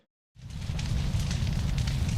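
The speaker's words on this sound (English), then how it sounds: "So this is the sound of some maple trees that are on fire." A synthesizer sample of burning maple trees: steady roaring crackle of a large fire, rumbling low with sizzling pops on top, starting abruptly after a brief silence.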